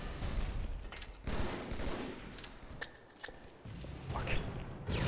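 Battle rifle fire in Halo 2 Team Slayer on Lockout comes as bursts of sharp shots with impacts and mechanical clatter, mid-distance and uneven over a few seconds, no talking.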